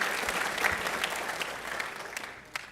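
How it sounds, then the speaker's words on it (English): Brief burst of audience clapping at a Holocaust awareness event, fairly loud and continuous with a few sharper individual claps standing out as it begins to taper. "Let's give them a round of applause as we are grateful for their leadership and their efforts."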